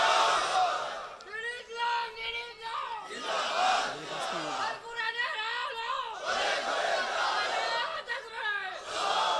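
A large crowd at an Islamic religious sermon roars the takbir in repeated loud bursts, their voices swelling together and then dropping back between shouts.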